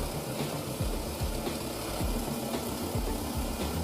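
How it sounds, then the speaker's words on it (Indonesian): Shredding machine chopping plastic bottles mixed with soapy water, running as a loud, continuous mechanical drone with regular low thumps and a broad rattling noise, with no voices. "baru kemudian dimasukkan ke mesin pencacah"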